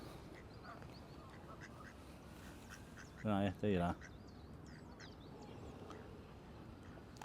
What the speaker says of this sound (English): Is that a mallard, is it?